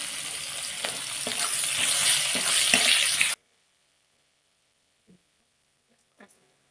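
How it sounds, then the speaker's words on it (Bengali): Chopped onions fry in hot oil in a wok for a Bengali fish curry, giving a loud, dense sizzle that stops abruptly halfway through, followed by quiet with a couple of faint clinks. "পেঁয়াজটা হালকা ব্রাউন করে ভেজে নেব।"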